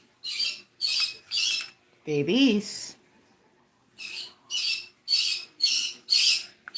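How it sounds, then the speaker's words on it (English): Pet birds squawk in a series of short, loud, harsh bursts, with a brief spoken word in between before the squawking resumes in a steady rhythm. "I may have to pardon myself for just a moment to go settle the birds."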